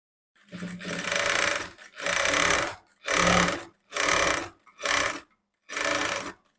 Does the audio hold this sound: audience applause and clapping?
no